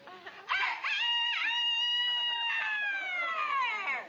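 A man imitates a rooster with his voice, delivering a long, loud, wavering cock-a-doodle-doo crow close up that rises and stretches out before trailing off.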